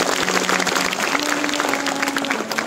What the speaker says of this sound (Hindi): इसके लिए जोरदार तालियां कीजिए।